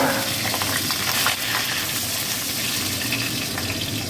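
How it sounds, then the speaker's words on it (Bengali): Long-cut potato strips frying in hot oil in a home kitchen, a close, continuous bubbling sizzle with faint stirring clinks and no talk. "এই তেলেতেই আমি এরকম লম্বা লম্বা করে কাটা আলুগুলো আমি ভেজে নিচ্ছি।"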